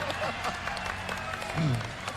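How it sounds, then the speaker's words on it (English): Applause from a crowd, a dense patter of clapping that stays fairly steady and moderately loud throughout. "can we have a round of applause?"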